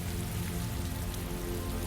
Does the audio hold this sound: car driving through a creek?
no